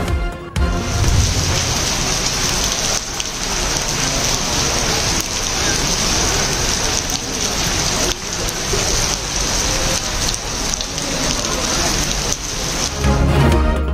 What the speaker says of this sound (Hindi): वफाकी दारुल हुकूमत के मुख्तलिफ इलाकों में गरज चमक के साथ बारिश